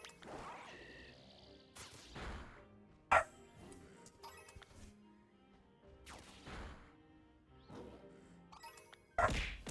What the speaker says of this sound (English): Excuse my dogs in the background too.